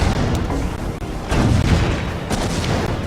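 Red cannon towers in Defense Grid pound away in a loud, sustained barrage of deep booms and crackling blasts that swell at intervals.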